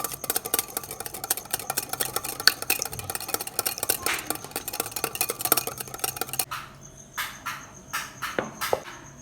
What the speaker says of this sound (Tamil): ஒரு முட்டையை பச்சை முட்டையை உடச்சி ஊற்ற போகிறோம். இதை பீட் பண்ணி ஒரு ஓரமாக வச்சிடலாம்.